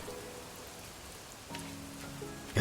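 In Animal Crossing: New Horizons, steady rain patters softly and evenly, blended with quiet in-game music tones and a brief rustle near the end, with no voices.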